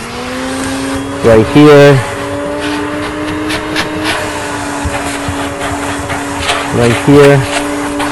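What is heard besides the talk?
vacuum cleaner cleaning stain spots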